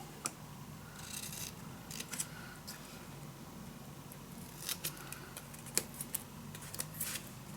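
Scissors cut paper along fold lines while a secret storage book is being crafted. Soft, close snips come at irregular intervals over a low background hiss, with no talking.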